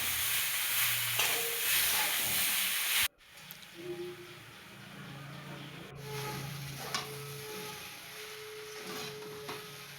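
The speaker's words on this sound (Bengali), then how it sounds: "আবারও কিছুটা নেড়ে চেড়ে এবার জিরে আদা লঙ্কা বাটাটা দিয়ে দিল।" A paste of cumin, ginger and chilli frying in a pan, a soft steady sizzle and hiss with a sharp drop as it goes in, then quieter frying and occasional stirring scrapes.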